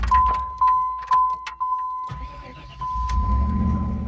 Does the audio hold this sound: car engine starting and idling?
yes